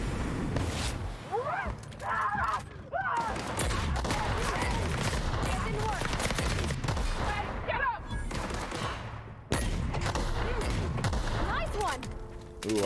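Repeated heavy blasts and gunfire from a grenade launcher in The Outer Worlds, loud and sustained in rapid bursts amid chaotic combat, with voices talking over the action.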